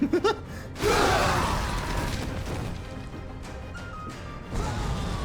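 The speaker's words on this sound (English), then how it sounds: "There's the second explosion." An explosion goes off in Yakuza 6, a loud burst that settles into a sustained rumble of debris and game noise for several seconds, with a few lighter clicks and tones near the end.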